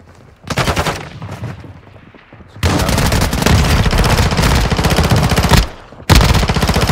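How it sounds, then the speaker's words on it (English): Automatic gunfire from the Call of Duty DMZ video game rattles in loud, close, sustained bursts, with a short burst first and then a long continuous stream before a final volley. "You are taking effective fire."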